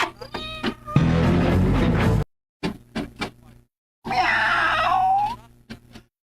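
Cats meow among bursts of noise and clattering, and one long, drawn-out cry rises and falls near the end. Voices may also be present.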